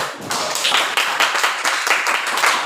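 Group of students clapping hands together in a classroom, close and loud, with quick irregular claps bunched into rhythmic bursts over a few seconds.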